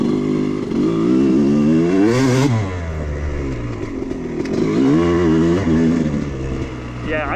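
A Honda CR250 two-stroke dirt bike engine runs steadily on a trail through switchbacks, rising and falling in revs, loud and close throughout.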